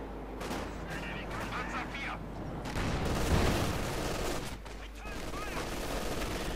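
Sustained gunfire suppresses an anti-tank crew in a 1v1 Company of Heroes 2 match, heard as dense rattling bursts and distant booms running throughout, with a voice talking over the battle.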